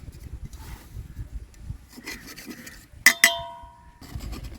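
A knife scrapes and cuts through Sri Lankan vattalappam coconut custard pudding in its dish, giving soft rubbing strokes and two sharp clinks against the dish near the middle, quiet and close.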